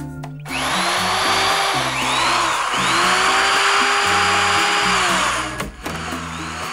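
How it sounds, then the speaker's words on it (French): A cartoon power drill from the animated series Lou! whirs in a loud, steady mechanical whine with rising and falling pitch sweeps, running alone for about six seconds before cutting off. "Perceuse."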